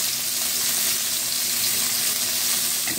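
Onion sautés with garlic in a hot pan for a Filipino ampalaya vegetable dish, a dense, continuous close-up sizzle and crackle at steady volume with no pauses and no talking.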